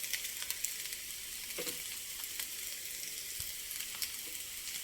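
Egg burji frying in a pan with green chillies and pepper powder, a constant faint hiss of sizzling oil with a few light clicks, no voices.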